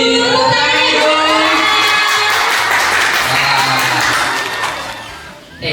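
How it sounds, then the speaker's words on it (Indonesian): An audience at a product grand launching event in Surabaya claps and cheers loudly, with shouts and whoops over sustained applause that tapers slightly near the end. "Tepuk tangan dong."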